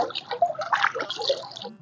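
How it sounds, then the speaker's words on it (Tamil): Water is poured into a camphor solution, a brief, soft trickle and splash with a few light drips, quiet and close. "இப்போ கொஞ்சம் கூட தண்ணி ஊற்றிக்கோங்க"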